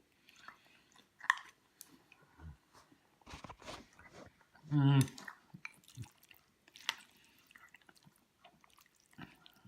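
Someone eats Marks and Spencer Sichuan spicy pork noodles with bamboo, with quiet close chewing and slurping in short bursts, one louder crunchy bite midway, between stretches of near silence.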